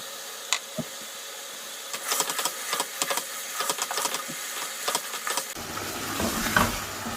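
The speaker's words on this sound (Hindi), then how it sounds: "दो 3 मिनट और इसको भूनते हैं।" A potato and eggplant curry is fried and stirred in a pan, with a soft sizzle under a run of scraping, clattering spoon strokes. The frying swells louder and fuller toward the end, with no talking.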